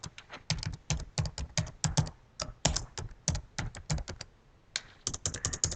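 Rapid typing on a computer keyboard while entering a new folder name, dozens of close, crisp keystrokes in quick irregular runs with a short pause near the end.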